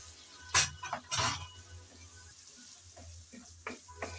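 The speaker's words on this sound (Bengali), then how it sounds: "আলু হালকা করে নেড়ে চেড়ে নিয়েছি" Potato pieces fry in a pan for a red amaranth leaf chorchori, with two sharp stirring scrapes early on, then a faint, low sizzle and a few soft stirring sounds, heard close and quiet.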